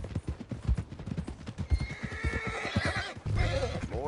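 Steady clip-clop of horse hooves in Red Dead Redemption 2, then a horse whinnies loudly near the end, with a rising breathy neigh over the hoofbeats.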